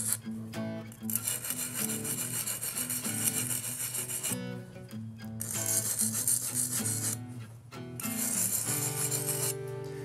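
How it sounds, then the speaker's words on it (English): A dull knife tip is ground down on a sharpener, producing rough, steady rasping in three long passes separated by short pauses, with a tonal hum running underneath. "Then I can go ahead and just grind a little bit down on that."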